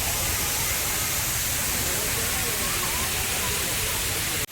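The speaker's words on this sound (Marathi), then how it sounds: "पाणी खूप छान पडत आहे, मुलंही खेळत आहेत पाण्यामध्ये." Water falls and splashes continuously at the Powai lake garden, a dense, steady roar heard close by, with talk faintly under it.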